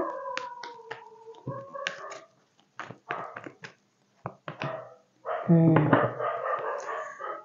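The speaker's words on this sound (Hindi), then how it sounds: "ये डॉग्स हर रोज भौंकते हैं।" Dogs bark in a series of sharp, irregular bursts at moderate loudness, with short pauses between them and a denser cluster of barks near the end.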